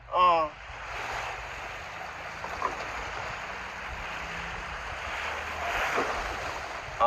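Sea waves washing ashore at Teluk Nibong, Langkawi, a steady soft surf wash with wind buffeting the microphone, moderately faint, with people talking over it.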